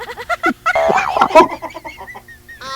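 Ducks quack close by in a quick run of repeated nasal, honking calls, some overlapping, with a brief pause before a final call; no voices are heard.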